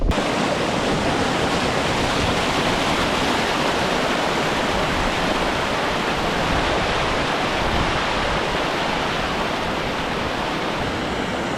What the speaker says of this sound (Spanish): Todo el agua que cae de las montañas